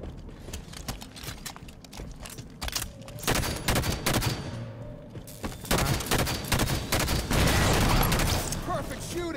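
Rapid gunfire from Halo 5 multiplayer, including a railgun, crackles in dense bursts through the whole stretch, growing louder and busier toward the end, with game effects layered over it.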